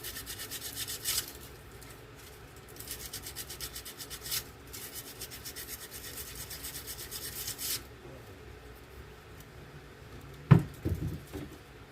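Coarse sandpaper rubbing the magneto of a 1960s two-stroke boat motor, steady rasping strokes in bursts with pauses, close and fairly quiet, ending in a couple of sharper knocks.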